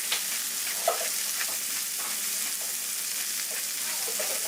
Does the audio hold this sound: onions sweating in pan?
yes